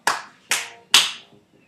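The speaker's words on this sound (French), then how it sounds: "Applaudissements." Three sharp, separate hand claps in a slow, even rhythm, close and dry, each one decaying quickly with nothing else around them.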